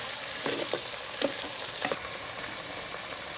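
Anchovy fish curry ingredients sauté in a hot pan with a soft steady sizzle, a few light stirring clinks and scrapes breaking through now and then, close and fairly quiet with no talking.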